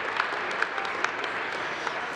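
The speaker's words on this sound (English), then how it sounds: "Give yourselves a round of applause." A sellout crowd of almost 1,100 people claps at the 2013 Colorado Business Hall of Fame event. The dense, continuous applause fills the room evenly, with a few sharper claps standing out and no voices over it.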